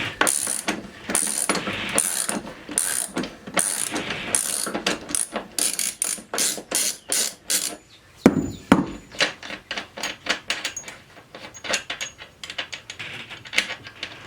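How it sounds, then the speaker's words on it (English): A ratchet wrench clicks rapidly while loosening the rear axle nut on a Honda CBR motorcycle, loud close bursts of ratcheting with short pauses and a few metallic knocks. "Now I can remove this one and go back to the ratcheting one, which will be much easier to deal with."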